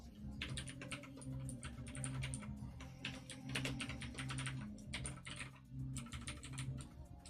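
Steady typing on a computer keyboard during programming work, rapid clustered keystrokes in uneven bursts with brief pauses, close and moderately quiet, alone without talk.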